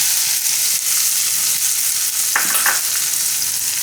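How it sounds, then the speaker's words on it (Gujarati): Hot oil tempering with coriander-cumin and asafoetida poured onto a Gujarati dariya chutney, a loud, steady hiss of sizzling that fills the whole clip, with a brief clink partway through. "તો આ વઘારને આપણે ચટણી ઉપર નાખી દેવાનું"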